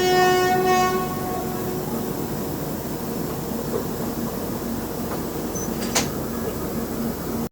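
Steady rumbling rattle of a moving Garib Rath coach, Chennai to Hazrat Nizamuddin service, heard from inside, with a faint horn tone at the start and a brief clank near the end.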